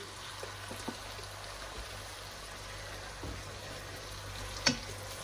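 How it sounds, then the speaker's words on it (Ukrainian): Culinary cream at 33% fat is poured into a pan of beef stroganoff, a soft, close liquid pour over a faint simmering sizzle, with a light clink near the end and no talking. "Отже, я заливаю вершками."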